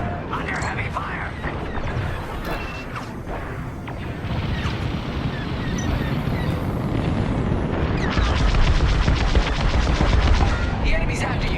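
Heavy blaster and cannon fire in the Star Wars Squadrons space combat game, a continuous loud barrage of rapid shots and booming impacts that intensifies toward the end, with voices talking over the battle.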